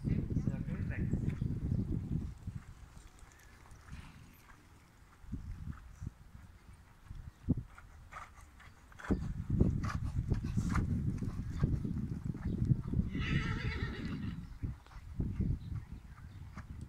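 Horses trotting in a dressage arena during a ridden test, hoofbeats coming in bursts of clip-clop under a spoken voice calling the movements.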